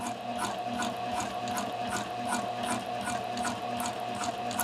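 A sewing machine runs steadily, stitching an invisible zipper along the zipper teeth, with an even rapid mechanical ticking and a constant motor hum throughout, with no voices.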